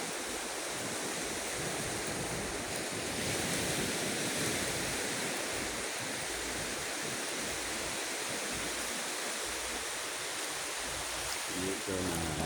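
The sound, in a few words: ocean waves on a morning beach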